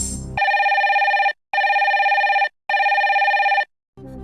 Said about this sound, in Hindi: फोन लगाया जाए कंप्यूटर जी,